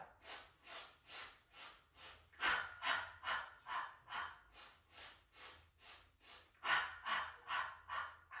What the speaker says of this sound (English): We can do that staccato breath. Inhale, 2, 3, 4, 5. Exhale, 2, 3, 4, 5.